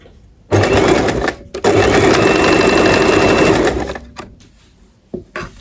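A sewing machine stitches the lining of a men's trouser side pocket in two loud, close bursts, a brief run then a longer steady whir of about two and a half seconds, followed by quiet handling clicks.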